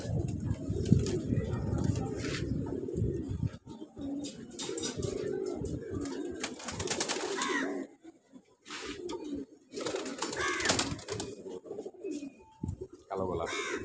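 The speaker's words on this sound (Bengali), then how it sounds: "এটা মানে আমার সবচেয়ে পুরান কবুতর" Pigeons coo in a loft in Lalbagh, soft throaty calls repeating through the clip with someone talking over them at close range and brief pauses between phrases.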